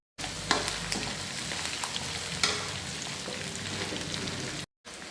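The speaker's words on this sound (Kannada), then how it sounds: "ಇವಾಗ ಮೆಣಸಿನ್ಕಾಯಿ, ಕರಿಬೇವು ಇದೆಲ್ಲ ಈಗ ಹಾಕ್ಬಿಡೋದು." Green chillies and curry leaves sizzling in hot oil, a dense continuous crackle and spatter up close with small pops, and no voices.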